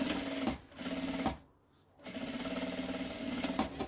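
A sewing machine stitches a small fabric bag, running in close, loud bursts with a short pause in the middle for a backstitch, then resuming its rapid even rattle.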